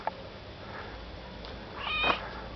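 A single cat meows clearly with a rising, drawn-out cry, preceded by a couple of faint, soft mews in a quiet setting.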